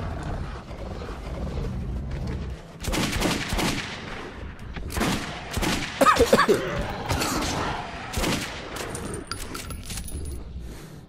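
Gunfire in the Metro 2033 Redux video game, with irregular bursts of sharp shots and rapid volleys scattered across the stretch over a background of game ambience and some tonal effects.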